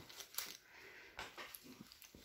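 A dog makes soft snuffling, panting and wheezing noises close by, in short irregular bursts that stay faint and breathy.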